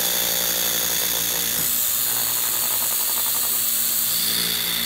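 A car polisher runs steadily while compounding the paint on a BMW F10 M5, giving a continuous whirring drone, close and loud throughout, with no speech.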